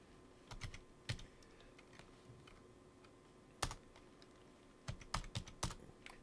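Soft, close keystrokes on a computer keyboard enter a password during Windows 11 setup, coming as scattered taps and short quick runs in a quiet room.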